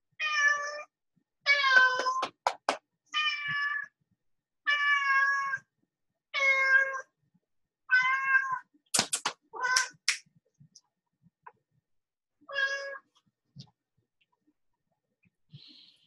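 A pet cat meows indoors, about eight clear, drawn-out cries spaced across the quiet, interspersed with a few faint clicks and rustles and long silent gaps.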